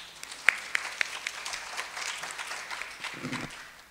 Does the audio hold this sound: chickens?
no